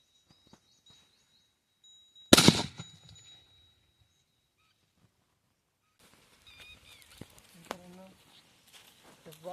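A firecracker bomb set inside a coconut goes off in one sharp, loud blast with a brief ringing clang and debris after it, then quiet. Faint bird calls and low voices follow a few seconds later.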